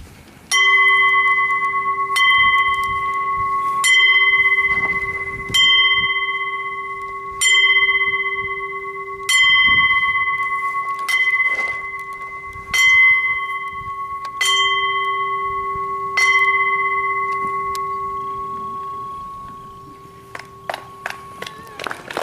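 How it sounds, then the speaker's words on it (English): A single bell at a wrestling show strikes ten times in a slow, evenly spaced tribute, each ringing tone decaying before the next, loud and clear in a hushed room, followed by scattered claps at the close. "And we are now going to do a 10-bell salute for the animal."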